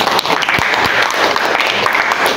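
A group of students in a classroom learning session claps together, a brief, loud and steady burst of applause close by.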